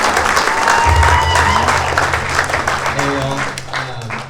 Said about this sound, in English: So round of applause for Ripa.